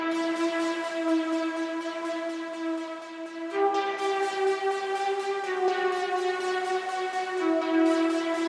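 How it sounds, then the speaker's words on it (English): Sustained synthesizer top melody in a melodic techno track, bright buzzy held notes stepping between pitches with a slowly pulsing texture, steady and prominent with no talking. "Next up we have a top synth, which is playing the same top melody as the previous synth"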